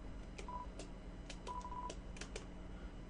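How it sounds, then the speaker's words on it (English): A few short electronic phone dial beeps from Undertale sound in quick succession over a low background hum, faint and synthetic. "let's call Papyrus and Undyne"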